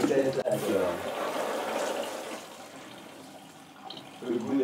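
Water splashes and runs from a tap while a hash-making bag is rinsed, a close, fluctuating gush that dips and swells, with some talking over it.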